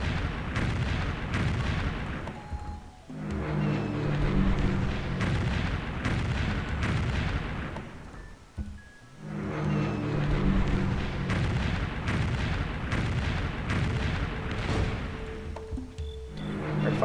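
Artillery bombards units in a World War II scenario of the strategy game Civilization III. Dense, rumbling volleys of explosions roll on continuously, broken by two brief lulls before the heavy booming resumes.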